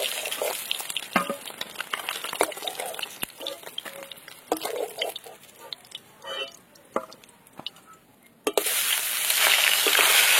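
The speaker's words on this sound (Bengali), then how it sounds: "মাছ ভাজা হয়ে গেছে, তুলে নেবো এবার।" Katla fish pieces fry in hot oil, a steady close sizzle with crackling pops and brief stirring scrapes, swelling louder near the end.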